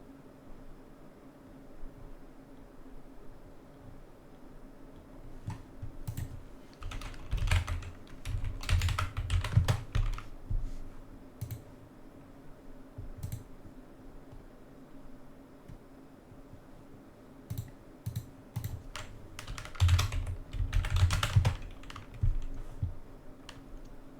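Bursts of fast typing on a computer keyboard clatter close by, alternating with quieter pauses, over a steady hum of room or fan noise, with no talk.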